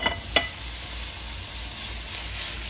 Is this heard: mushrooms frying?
yes